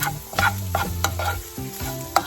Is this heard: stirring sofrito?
yes